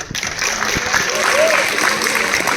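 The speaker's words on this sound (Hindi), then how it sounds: "एक बार इसके लिए ताली हो जाए" An audience at a college freshmen orientation for a programming club claps, giving a short, dense burst of applause that holds steady for a couple of seconds.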